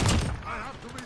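Gunfire in the video game Modern Warfare, a dense burst of shots close up at the start that tails off into a rumbling, echoing mix of game noise.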